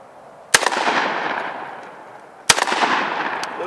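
Two loud, close blasts from a VEPR 12 AK-style semi-automatic shotgun firing a mixed bag of birdshot shells outdoors, about two seconds apart, each with a long ringing decay.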